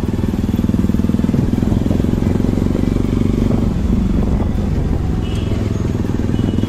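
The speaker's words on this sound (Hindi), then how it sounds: "एग्जॉस्ट के साउंड" A Bajaj RS 200 motorcycle fitted with an R1M-style aftermarket exhaust idles close by with a loud, steady, throbbing exhaust note that pulses evenly throughout.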